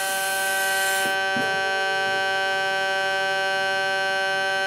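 A Gow-Mac Model 21-250 helium leak detector sounding its alarm: a loud, steady electronic tone with a piercing high hiss at first that cuts off after a second, leaving the continuous buzzing whine alone.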